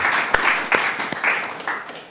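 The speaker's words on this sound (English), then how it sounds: "So, warm applause for Mr. Sobel." Audience applause for a speaker at a lecture on central banking, a dense wash of clapping with a few sharper individual claps standing out, steady and moderately loud throughout.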